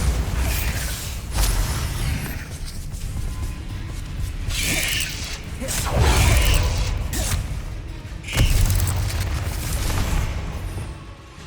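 Bombarda spell explosions in Hogwarts Legacy go off as loud booming bursts, several spaced blasts over rumbling mechanical clatter and creaks.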